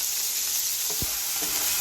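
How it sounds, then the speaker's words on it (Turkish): Onion rings frying in hot oil give off a steady, close sizzle with a few soft bubbling pops. "Soğan halkası kızartacağım şimdi onlara."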